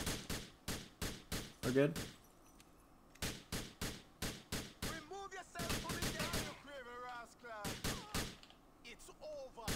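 Repeated sharp gunshots in GTA 4, quick evenly spaced single shots in bursts, loud and close, with voices talking between and over the firing.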